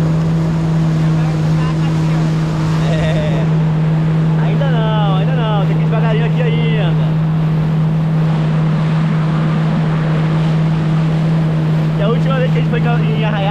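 Jet ski motoring out through the harbor mouth toward open sea at Cabo Frio, a loud steady engine drone with a strong constant hum, water splashing around it and people talking intermittently over the noise.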